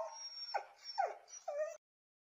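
A dog in the video game Bio Revenge whimpers and yips in three or four short, high, plaintive cries over about two seconds, clear and close, then falls silent.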